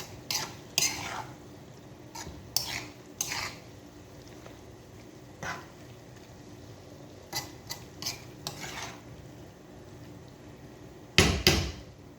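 A spoon stirs chicken liver in a cooking pot, making scattered metallic clinks and scrapes in short bursts with quiet gaps between them, and a louder clatter near the end.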